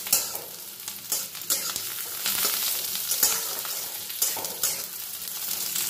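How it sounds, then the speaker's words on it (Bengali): Green chillies frying in oil with onion, ginger and garlic for a fish curry, a dense crackling sizzle broken by repeated clinks and scrapes of stirring. "প্রথমে দুটো কাঁচা লঙ্কা অ্যাড করে দিলাম"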